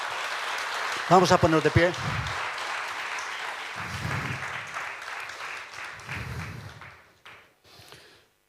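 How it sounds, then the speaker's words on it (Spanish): Church congregation in Lugo applauding in praise of the Lord, a moderate wash of clapping that fades out toward the end, with a voice speaking over it and brief other voices mixed in. "¿Podemos darle un aplauso al Señor?"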